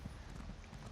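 Steady clip-clop of horse hooves at a riding pace in the online role-playing game Elder Scrolls Online, a continuous close rhythmic trot with no talking.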